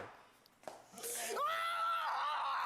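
A quiet rustle and a thump, then a loud, sustained high female scream rises and holds to the end.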